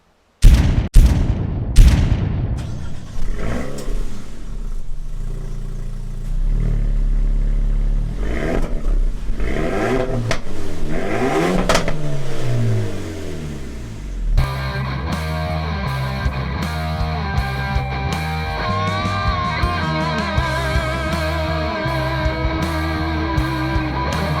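A Renault Megane IV RS facelift engine starting and revving hard: a sharp bark and pops, then sustained roaring revs that rise and fall, loud and close, later a steady running drone.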